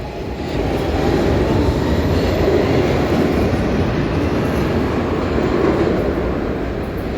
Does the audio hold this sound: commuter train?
yes